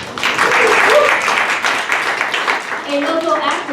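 Audience applause at a live comedy show at Go Comedy, a steady wash of clapping over the whole stretch with a voice talking over it.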